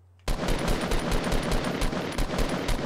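Rapid automatic gunfire from a gun in Fortnite, a steady burst of evenly spaced loud shots starting abruptly and continuing for nearly three seconds, close and alone.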